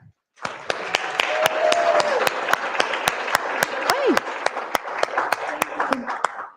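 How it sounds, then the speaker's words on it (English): Audience applause for Elisa from Sistrix, the main sponsor, at an SEO conference; steady clapping fills the room for several seconds, with a few sharp claps standing out and some faint voices underneath. "we can give them a bit of a round of applause and a thank you"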